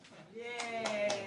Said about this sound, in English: Three cheers for the awkward clap just there